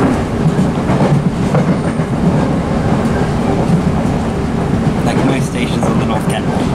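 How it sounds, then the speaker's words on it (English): An engineering train passes at 75 miles per hour on the South Eastern Main Line near London Bridge, a loud, continuous rolling roar with rhythmic wheel clatter heard up close from inside a moving train. "Engineering services passing by 75 miles an hour."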